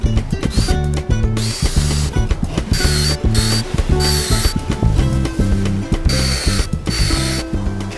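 Ratcheting clamps being cranked tight on a damaged wooden garden fence, giving dense repeated clicking bursts close by with brief pauses between strokes.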